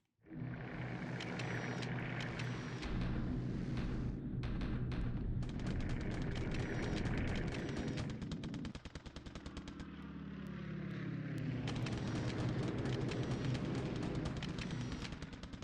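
A steady, rumbling barrage of bomb explosions on a runway in the naval strategy game War in the Pacific, continuous and dense, with booms and rattling blending together without talk.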